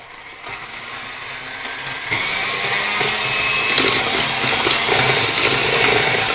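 Egg and granulated sugar mixed together in a bowl for plum cake, a steady scraping and whisking that grows louder and denser after a quiet start, with no talking.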